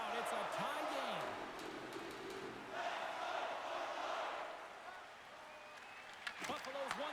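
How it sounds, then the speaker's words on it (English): Hockey arena crowd in the NHL 26 video game, a continuous roar of cheering fans with swells of noise and a few sharp knocks, under commentator talk. "You can feel the energy in this crowd."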